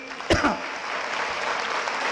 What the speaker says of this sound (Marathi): एकदा टाळ्या होत्या भास्कर जाधव सरांसाठी